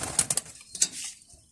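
Pigeons cooing and fluttering at close range, a few short bright calls and wing flaps in quick succession before fading to quiet.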